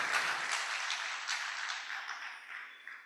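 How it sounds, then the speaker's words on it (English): Audience at a stakeholders' workshop applauding, a dense steady wash of clapping heard from a moderate distance that slowly thins out over a few seconds. "So I think we can give a round of applause for Professor Bada and the university."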